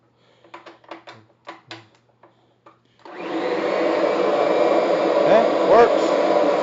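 A Kirby G6 upright vacuum cleaner switches on after a few sharp clicks and knocks, then runs with a loud, steady whirring roar close by, alone with no talk.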